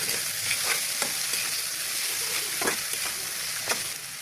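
Beef liver fries in a pan with a bright, even sizzle, broken every second or so by the scrape of a spoon stirring the pieces.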